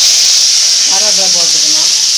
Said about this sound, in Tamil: கடுகு போட்ட உடனே கடுகு பொரிஞ்சிச்சு